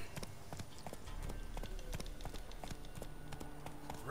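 Roach the horse galloping in The Witcher 3, steady rhythmic hoofbeats drumming close and continuous over game ambience, with no talking.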